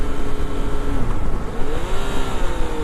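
A Yamaha FZ09 (MT-09) motorcycle engine revs up steadily, close and loud, its tone rising and falling in sweeping pitch changes with a rough throaty rumble underneath and no one talking.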